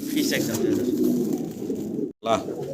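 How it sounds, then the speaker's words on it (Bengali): A pair of fancy Lakha pigeons coo close by in low, rolling murmurs that run almost continuously, broken by a brief silence near the end. "একজোড়া লাক্ষা কবুতর দেখতে পারতেছি"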